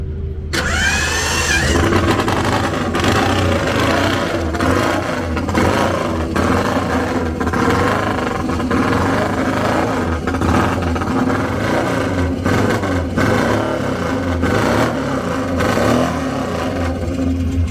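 An ex-classic racing motorbike with a four-stroke engine at a classic motorcycle event, starting then revving hard and throatily for about seventeen seconds, loud and close throughout with no talking.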